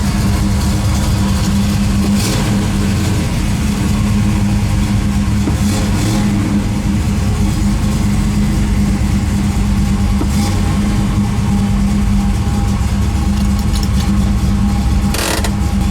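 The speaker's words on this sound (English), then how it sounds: "as you can see, the idle's a little bit high" A 1973 Chevrolet Camaro Z28 V8 sits idling a little high, giving a steady, continuous low engine rumble throughout with slight mechanical clatter and no talking.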